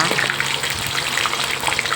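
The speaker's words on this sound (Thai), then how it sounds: "นี่เลยน้ำมันร้อนแล้วนะคะ เราก็ใส่ปลาลงไปเลยจ้า" Loud, continuous crackling and sizzling of fish frying in hot oil, steady throughout.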